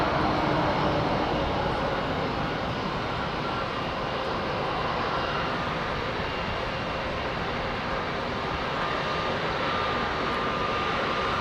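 Lufthansa Airbus A320neo jet airliner at London Heathrow, a steady broadband engine roar holding at moderate distance throughout with no voices.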